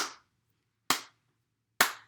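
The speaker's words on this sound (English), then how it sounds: "Can you clap with me?" Three crisp hand claps land at an even, unhurried pace, close and clear with silence between each.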